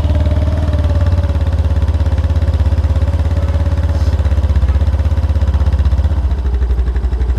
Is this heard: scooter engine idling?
yes